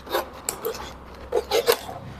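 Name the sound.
cutting a plastic bottle with a sharp knife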